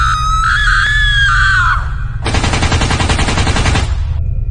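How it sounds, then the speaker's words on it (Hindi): A character's screaming rises and wavers for about two seconds in the Free Fire shooter game, followed by a loud, steady burst of rapid machine-gun fire that runs for nearly two seconds. "कमला वहां पर आती है और पागल की तरह चीखने चिल्लाने लगती है।"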